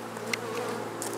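Honey bees drone steadily around an open hive during frame handling, a soft continuous buzz close by with a brief brighter knock partway through and no talking.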